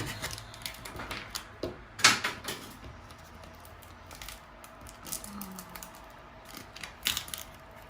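A decorative wall covering is scraped off a wall by hand, producing faint, scattered scratching strokes and small clicks at irregular intervals in a quiet room.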